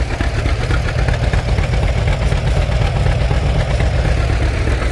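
An antique John Deere B tractor runs loud and close in a steady chugging idle during a plow day, its engine pulsing without pause and no talk over it.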